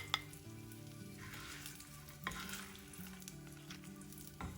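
Garlic cloves and dried red chillies fry in oil in a pan with a soft, continuous sizzle, broken by a few light clinks of stirring. No one speaks.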